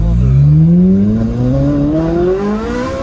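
A Ferrari 458 Spider fitted with an IPE exhaust revs hard up close, its loud, smooth engine note climbing steadily in pitch over about three seconds.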